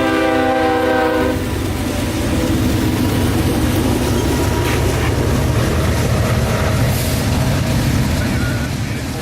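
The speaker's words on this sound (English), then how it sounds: "Here is Csx Ethanol Train K423, on his way from Bensonville, Illinois to Tampa, Florida's Hookers Point ethanol terminal" A CSX ethanol freight train, K423 running from Bensenville, Illinois to Tampa's Hookers Point terminal, sounds its horn in a loud chord at the start, then rumbles past with steady rolling wheel noise.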